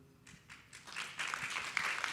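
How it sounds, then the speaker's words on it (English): A panel audience at a Miami housing and health summit gives a short burst of applause, the clapping building from a few scattered claps into fuller, denser applause. "Thanks for giving her a round of applause"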